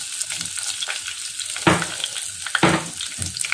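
Crushed ginger and garlic sizzle and fry in a pan for a fish chilli curry, with a steady crackle and two louder bursts of stirring.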